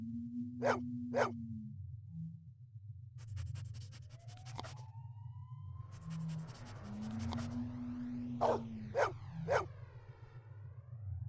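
A game dog in Blade Runner: Enhanced Edition gives several short barks, paired at the start and in a cluster near the end, over a steady low synth hum and electronic tones.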